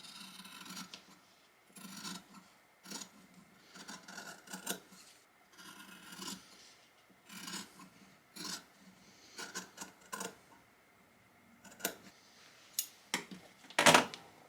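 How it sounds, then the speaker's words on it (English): Scissors snip and rasp through fabric in short bursts, irregular cuts spaced across the stretch, close up and fairly quiet, with a sharper click near the end. "I'm just using my scissors for this since I have it all outlined."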